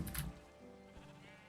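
A Minecraft sheep gives a single short bleat, close and clear, fading into quiet game background.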